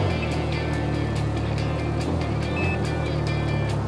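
A Can-Am Ryker 900 three-wheel motorcycle engine runs at a steady idle, a continuous low rumble with a constant hum and a few faint clicks, close by.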